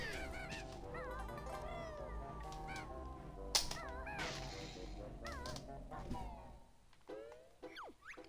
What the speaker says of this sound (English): Whoa, my cat's going crazy.